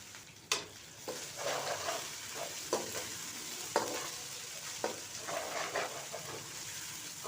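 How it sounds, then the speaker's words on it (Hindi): Garlic and ginger fry in a pan for aloo palak paneer sabzi, a steady close sizzle broken by scraping stirs and clinks of the spoon every second or so, with no talk. "पच्चीस से 30 सेकंड तक हम लहसुन अदरक की भुनाई करेंगे ताकि इसका कच्चापन ख़त्म हो जाए।"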